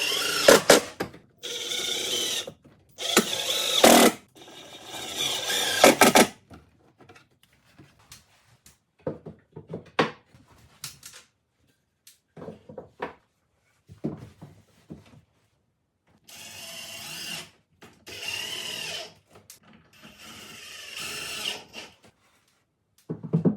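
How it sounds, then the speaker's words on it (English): A power drill drives screws up from inside a kitchen cabinet into solid wood framing, in repeated whirring bursts of a few seconds each, close and loud, separated by quieter clicks and handling noise. "screwing up from the inside of the cabinet into my solid wood framing, which is way more secure"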